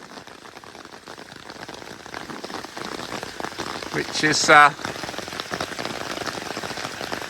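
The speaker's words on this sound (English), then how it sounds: "enjoying the sound of the rain on that polycarbonate roof" Steady rain drums on a polycarbonate conservatory roof during a Norwich thunderstorm, a dense continuous patter with a brief louder surge, while a voice speaks a couple of words over it.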